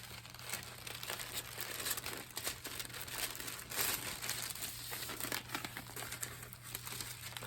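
Choco paper is handled and crumpled up close in a continuous, busy crinkling and rustling, with small crackles throughout over a low steady hum.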